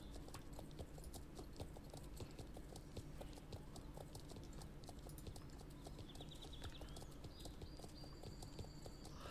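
Selle Français horse trotting in the online game Star Stable Online: a fast, even clip-clop of hooves in a steady two-beat rhythm, crisp and close, continuing alone without pause.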